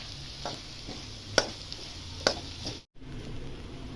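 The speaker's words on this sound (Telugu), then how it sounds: "ఇప్పుడు పిడిపి వేస్తున్నాను వేసి బాగా వేపాలండి" Shark fish curry frying in a pan, giving a steady close sizzle with a few sharp clinks and taps of a stirring utensil and one brief cutout.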